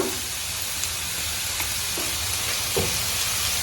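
Green chillies frying in a pan of goat blood fry, a steady loud sizzle and hiss with a few faint stirring taps.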